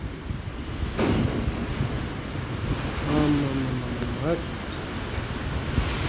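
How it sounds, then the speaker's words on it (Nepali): Roaring gusts of strong wind and heavy monsoon rain in Bhaktapur, Nepal fill the air, with a voice briefly calling out partway through. "यस्तो यो घनघोर वर्षा हुन लागेको छ"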